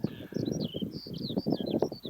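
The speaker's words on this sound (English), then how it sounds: "That is the sound of the Skylark." High, rapid warbling skylark song trills in the distance over rough pastureland on a golf course, over a low rumbling background, continuous and faint.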